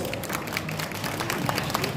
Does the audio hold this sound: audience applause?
yes